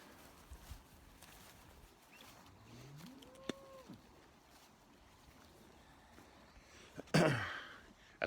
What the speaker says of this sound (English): That's cow 408.